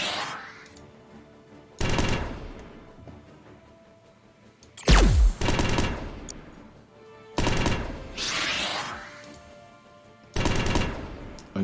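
Weapons discharge in a space combat strategy game as several loud, spaced blasts and bursts, each a heavy broadband crack that decays over a second or so, with one deeper booming impact midway.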